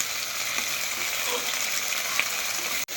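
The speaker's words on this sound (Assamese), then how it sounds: "ঔটেঙা ভাজি আছোঁ মই এতিয়া।" Pieces of elephant apple (outenga) fry in a wok with a steady, soft, hissing sizzle, fairly faint and even throughout, ending with a sharp click just before the end.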